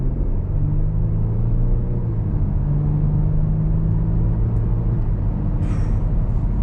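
A 2022 Kia Stinger GT2's engine gives a steady, close, low droning rumble throughout, with a deep even tone and no voices over it.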